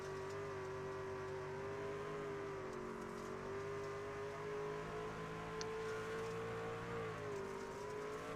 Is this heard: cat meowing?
no